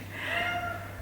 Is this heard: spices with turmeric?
no